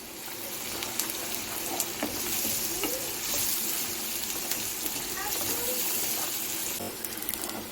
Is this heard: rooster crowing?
no